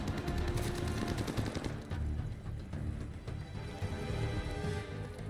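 Rapid automatic gunfire rattles from a video game weapon in dense, continuous bursts, loud and close, with a busy game soundscape underneath and no talking.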